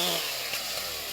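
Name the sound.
chainsaws used by soldiers clearing storm damage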